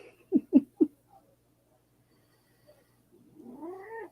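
A domestic cat gives three short, close meows in quick succession, then after a pause a longer, drawn-out rising and falling yowl, fairly loud in a quiet room.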